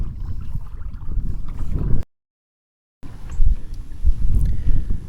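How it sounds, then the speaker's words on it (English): Strong sustained wind buffets the microphone out on the water while bass fishing, a loud, low, rumbling roar that cuts out briefly for about a second before returning just as heavy. "I'm facing a pretty decent sustained wind and current, which is making it very difficult to throw any sort of soft plastic"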